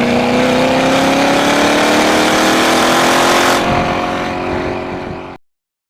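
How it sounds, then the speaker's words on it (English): A Chevrolet C7 Corvette exhaust drones loud and steady as the engine pulls, pitch rising gradually before easing off and cutting out near the end. "the driver can select which driving modes get which exhaust sound"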